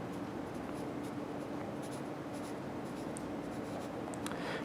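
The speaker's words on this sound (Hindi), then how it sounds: "तो यहाँ पे हम आंसर बॉक्स में लिखेंगे" Pen or pencil writing on paper, filling in an answer box on a grade 5 maths exercise page, a steady close scratching that runs continuously over a soft background hum.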